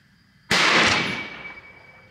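A single sharp rifle shot from a Vudoo rifle firing Eley target ammunition cracks out close and loud, then decays through a lingering outdoor echo.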